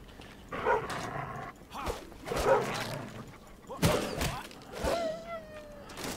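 Dogs in the video game Enshrouded bark and growl in several short loud bursts spread over a few seconds, with game effects and thuds mixed between the barks.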